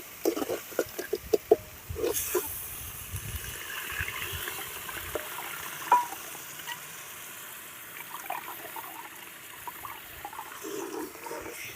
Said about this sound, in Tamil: இதுக்கு மேலே புளி தண்ணி ஊற்றிக்கலாம்